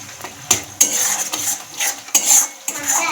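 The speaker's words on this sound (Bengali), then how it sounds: "আর এইদিকে আলুর দমের মশলাটা কষাচ্ছি" Aloo dum spice masala with peas being stirred and sautéed in a pan, a metal spoon scraping and clinking against the pan in repeated strokes over a soft sizzle, close and fairly loud.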